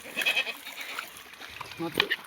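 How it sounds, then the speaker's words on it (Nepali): A goat bleats a couple of short times nearby in Lungchung village, with voices and faint outdoor background. "एउटा बाख्रा आएको गर्छ"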